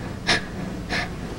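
A person imitates a baby gasping for breath, making two short, sharp breathy gasps about half a second apart, close and fairly loud against a quiet room background.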